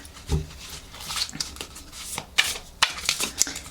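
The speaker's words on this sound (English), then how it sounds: "let's just shuffle this card first." Tarot cards are shuffled close by, a series of quick riffling, flicking bursts with small taps in between, no talking.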